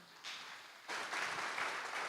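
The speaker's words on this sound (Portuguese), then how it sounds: "As palmas, louva o Senhor, irmãos." A church congregation breaks into clapping in praise during a worship service, starting softly and then swelling into fuller, steady applause heard at a distance.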